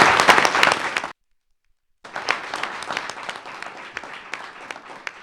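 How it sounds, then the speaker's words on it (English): A room at a school board meeting breaks into applause with crisp, individual claps, which cut out abruptly to silence for a second and then resume more sparsely. "Let us give all of them a round of applause"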